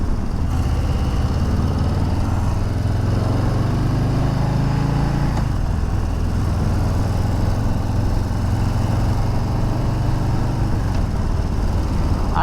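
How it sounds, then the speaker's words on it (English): Harley-Davidson Low Rider ST with an air-cooled V-twin while riding, giving a steady, loud, close engine drone that swells slightly in pitch as it pulls, then settles into a constant rumble. "I can tell this is an air-cooled engine though for some reason."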